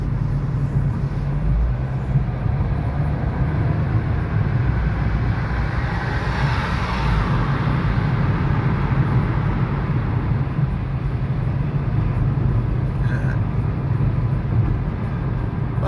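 A car accelerates on a highway, a loud, constant engine and road rumble with steady tire and wind noise throughout, heard from inside the cabin with no talk.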